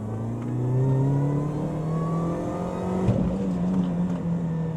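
A supercharged Mini Cooper S R53 pulls hard at full throttle from low speed, its engine note climbing steadily and loud over about five seconds, with a brief thump partway through.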